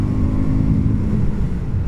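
A BSA Scrambler 650 motorcycle's engine runs with a steady, low, throbbing drone, close and continuous throughout with no talk.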